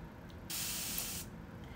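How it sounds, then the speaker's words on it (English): A continuous mist spray bottle releases a single soft, hissing burst of fine mist lasting under a second, close by, between quiet pauses. "It's a continuous spray bottle."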